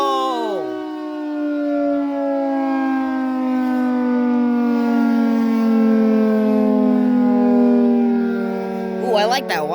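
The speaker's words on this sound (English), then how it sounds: "I like the way that wind down sounds." Federal Signal 3T22 civil defense siren during a test in Portage, Ohio, a loud steady wail slowly winding down in pitch over several seconds, heard alone with no talk.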